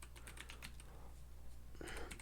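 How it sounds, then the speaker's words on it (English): Quiet clicks of a computer keyboard as a name is typed: a quick burst of keystrokes at the start, a short lull, then another brief flurry at the end, all over a low steady hum. "you're going to want to just type the name"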